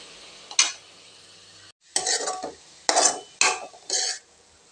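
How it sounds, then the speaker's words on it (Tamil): Finely chopped onions are stirred in a pan: four or five short, close bursts of spatula scraping and clinking against the metal over a faint, low sizzle, with brief quiet gaps between strokes. "வெங்காயம் கொஞ்சம் வதங்கட்டுங்க."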